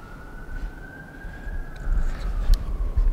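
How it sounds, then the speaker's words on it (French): A police siren wails at a distance on a street in Oshawa, a single drawn-out steady tone that slowly dips in pitch over low rumbling traffic noise. "Il y a clairement une sirène de police."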